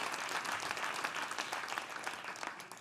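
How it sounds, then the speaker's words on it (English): An audience at a media summit closing plenary claps steadily for the organizers and partners, a moderately distant, even wash of applause that tapers off slightly. "a round of applause for all of the organizers and our partners"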